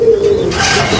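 A pigeon coos once up close in a short, low, throaty call inside a commercial pigeon loft, with no talk over it.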